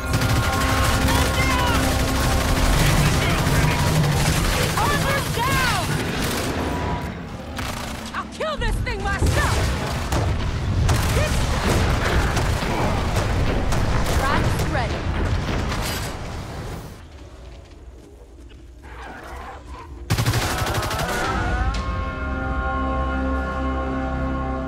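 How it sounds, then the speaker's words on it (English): Rapid gunfire rattles in bursts while shooting a monster in the video game Evolve, with booms and explosions mixed in, a short lull near the end before firing resumes, and a player talking over the action. "Shooting it right in the fucking ass."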